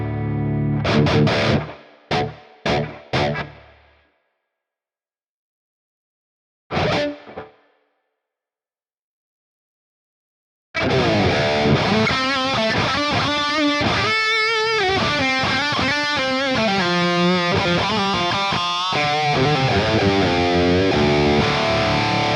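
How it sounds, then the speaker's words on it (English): Electric guitar played through a Hotone Ampero II Stomp with reverb added: a few short plucked notes with brief gaps, then sustained distorted chords and melodic lines ringing out with a washed, echoing tail. "Okay, now I'm just going to add my reverb"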